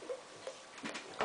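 A voice mimics dripping water with a few soft, separate tick-like mouth clicks spaced unevenly, faint and close.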